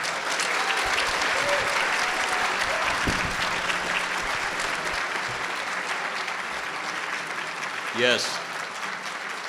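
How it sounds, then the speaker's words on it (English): Sustained standing ovation from the crowd at a broadcasters hall of fame ceremony, dense continuous clapping with cheering voices mixed in, and a brief spoken word rising above the applause near the end. "A standing ovation for a beautiful lady and still an amazing broadcaster."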